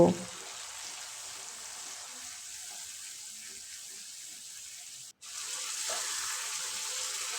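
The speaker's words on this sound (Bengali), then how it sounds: "কাশ্মীরি রেড চিলি পাউডার দিয়ে দেবো সামান্য একটু জল দিয়ে মশলাগুলো কষে নেব" Cumin powder, coriander powder and Kashmiri red chilli powder fry with a splash of water in a pan for mutton curry, producing a steady low sizzling hiss that briefly cuts out near the end.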